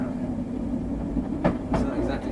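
A Merseyrail train on the Liverpool to Ormskirk line rumbles steadily along the track, with a couple of brief clacking bursts midway through the continuous low drone.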